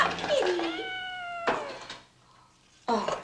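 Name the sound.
cat meowing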